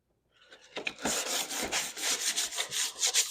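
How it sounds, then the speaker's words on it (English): Sandpaper rubbing over a motorcycle body panel to rough it up so glued plastic spoons will stick, a steady scratchy rasping of repeated strokes, close and fairly loud, with no talking. "But I just want to sand it so to have a good surface to stick to."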